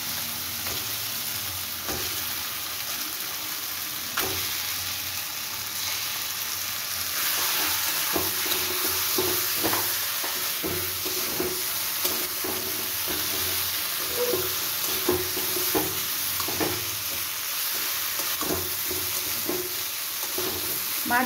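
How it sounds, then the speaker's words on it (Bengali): Prawns sizzle and fry vigorously in spice paste over a high flame in a Bengali malai curry, with steady crackling and occasional stirring scrapes throughout, loud and close, no talk. "মাছগুলো দিয়ে একটু হাই ফ্লেমে এটাকে একটু নাড়াচাড়া করে নেব।"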